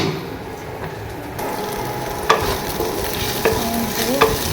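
Okra (bhindi) fries and sizzles in a pan, with sharp scraping stir strokes at irregular intervals over a constant hiss.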